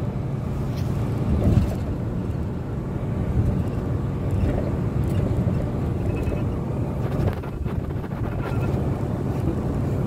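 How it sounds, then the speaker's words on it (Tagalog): A truck rumbles along a bumpy, snowy road, its low engine drone and road noise constant and close, with a few heavier thumps and jolts breaking through, alone without speech. "Parang lubak, tumatalon yung truck."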